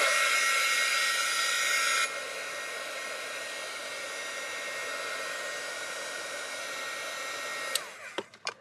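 A hair dryer blows steadily to dry a layer of ink on a card, with a louder start that drops after about two seconds, then a constant hum before it clicks off with a few handling knocks.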